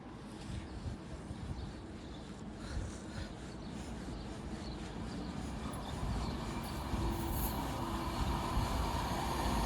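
A Pendolino train passes through Stafford station, its low rumble and rushing air building steadily and growing louder toward the end, with faint wind buffeting and no talk.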